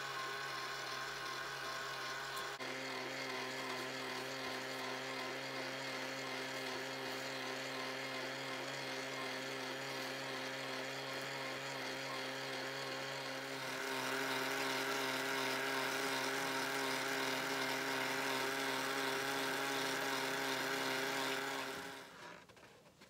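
A small DC motor runs inside a homemade paper-money box, a steady buzzing whine with tonal hum that holds throughout, grows slightly louder partway, then winds down and stops at the end.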